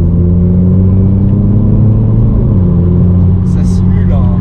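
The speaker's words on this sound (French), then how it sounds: "Ça simule un régime moteur qui augmente." Simulated engine note of a Renault Clio 4 RS Trophy with 220 hp and dual-clutch automatic, played through the cabin speakers: a steady low drone that shifts pitch midway, heard under conversation inside the car.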